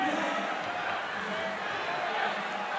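A stadium crowd at a Legends Football League game in Australia cheers on the home defense, a steady, distant wash of roaring voices with a commentator talking over it.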